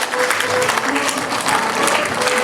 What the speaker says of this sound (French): je vais vous demander tout simplement un applaudissement très très fort